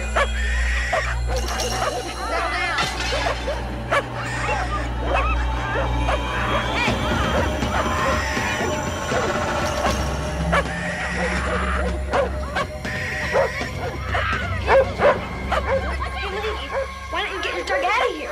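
A dog in a veterinary waiting room yips, barks and whimpers in uneven bursts, close and fairly loud, while people talk over it throughout.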